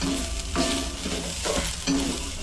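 Grated coconut roasts with onion in a pan over a flame for a Konkani Malvani brinjal bharit masala, giving a dense, continuous close sizzle with a few soft stirring scrapes.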